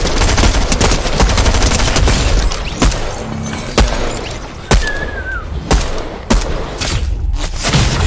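Gunfire in Fortnite Chapter 3 Season 2, a loud, dense stream of rapid shots with heavier individual cracks and thuds punctuating it throughout.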